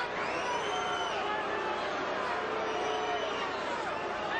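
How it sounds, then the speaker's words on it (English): Boxing arena crowd at a heavyweight rematch between Evander Holyfield and Lennox Lewis booing, a dense sustained roar of many voices with a commentator talking over it. "And the Boo Birds come out in the crowd"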